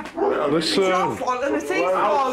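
A dog whimpers and yips inside a house, its thin, high cries rising and falling beneath close, steady talk from several people.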